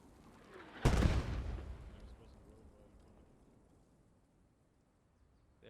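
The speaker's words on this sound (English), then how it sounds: "That was a big grenade, but it just didn't land close enough to die." A grenade blows up in the World War II shooter Post Scriptum with one loud, close boom. A long rumbling tail fades over several seconds, and faint game ambience sits underneath.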